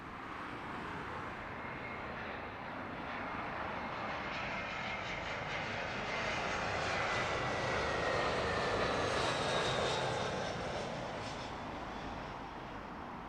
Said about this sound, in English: Another smart One World liveried British Airways A320.